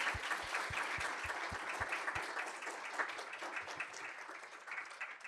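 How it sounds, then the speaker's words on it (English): An audience at a medical careers alumni panel breaks into applause for the speakers, a dense wash of clapping that carries on steadily and fairly far off for several seconds. "a round of applause for you both"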